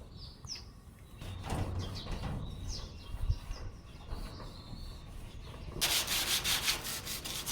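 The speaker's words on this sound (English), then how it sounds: "Using Hamilton's quality sandpaper, I'm using an 80 grit to now sand the metal surface" 80 grit sandpaper is rubbed over a metal garage door in repeated close scraping strokes, growing louder and faster near the end, with birds chirping faintly in the background.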